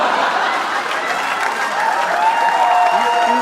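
An audience at a Hindi stand-up comedy roast show claps loudly and continuously, a dense wash of applause that holds steady throughout, with a voice faintly rising over it near the end.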